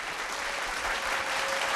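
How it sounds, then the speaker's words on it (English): A crowd at a vocal competition show claps for the contestants on stage, a faint, steady wash of applause with a constant tone hum beneath it. "Big round of applause to them"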